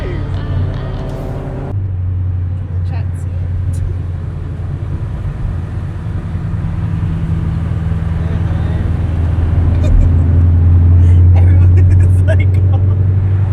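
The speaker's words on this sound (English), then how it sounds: "That Vantage sounds clean. Damn, that Vantage sounds nice." An Aston Martin Vantage engine drones steadily through a drive, its low rumble building louder toward the end as voices talk over it inside another car.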